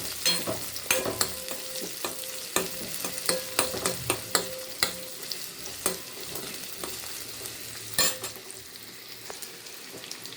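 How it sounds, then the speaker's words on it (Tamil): Finely chopped small onions and dried chillies sauté in ghee, a constant crackling sizzle punctuated by rhythmic scrapes and knocks of a utensil against the pan, close and steady with no talking. "அப்புறம் கொஞ்சம் சின்ன வெங்காயம் பொடியாக கட் பண்ணி வச்சுருக்கேன். இந்த நெய்யில் கொஞ்சம் நல்லா வதக்கி விட்டுக்கலாம்."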